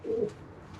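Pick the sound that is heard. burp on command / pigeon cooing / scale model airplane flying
pigeon cooing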